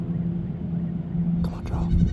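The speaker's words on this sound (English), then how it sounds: "That goat's right there." A goat in Hawaiian hunting country bleats a short, wavering call near the end, heard close over low rumbling background noise.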